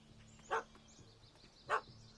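A dog in The Witcher 3 barks twice, two short separate woofs about a second apart over a quiet game ambience.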